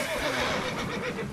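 A horse whinnies in The Witcher 3 video game, one drawn-out, wavering neigh heard loud and close over a steady bed of game ambience.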